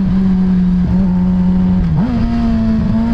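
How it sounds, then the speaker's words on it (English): A Suzuki GSXR 750 motorcycle engine holds a loud, steady drone close by, then dips and blips up to a higher pitch as it rev-matches a downshift, with no talking. "Oh yeah, that rev match, baby."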